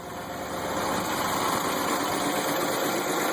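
The original engine of a 1960 Ford Galaxie Starliner at a car show idles steadily and smoothly, a close, loud, even rumble with a faint high whine running throughout and no one talking.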